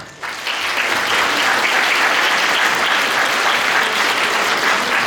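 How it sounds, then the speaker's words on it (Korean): Wedding guests at a Seoul hotel ceremony break into applause as the bride and groom bow. A soft start quickly swells into loud, steady clapping from a large crowd that holds evenly to the end. "내빈 여러분들께서는 신앙신구가 인사드릴 때 큰 박수로 화답해 주시면 감사하겠습니다"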